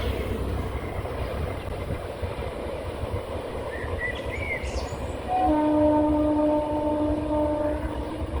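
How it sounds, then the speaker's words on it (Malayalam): A Kochi Metro train passes in Kochi, Ernakulam, with a steady rolling rumble throughout and a sustained horn tone joining about two-thirds of the way in as the sound swells louder. "ക്യാമറയിൽ മനസ്സിലാവുന്നുണ്ട് മെട്രോ."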